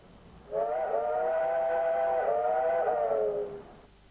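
A steam train whistle gives one sustained, steady, multi-toned blast of about three seconds, clear and prominent over quiet surroundings.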